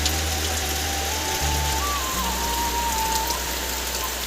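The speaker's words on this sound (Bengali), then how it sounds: "দেখো কি পরিমাণে বৃষ্টি ফেলাইছে।" Heavy rain pours down outdoors in a dense, steady wash of noise with no pauses, and a faint thin tone drifts underneath.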